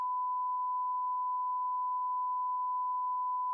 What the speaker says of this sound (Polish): Będziemy dużo pikać.